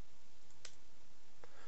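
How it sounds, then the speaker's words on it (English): Delete key pressed on a computer keyboard while working in AutoCAD 2016, giving two brief, faint clicks, the first near the middle and a second softer one shortly after, in an otherwise quiet room. "I'm going to use the delete key on my keyboard to delete them."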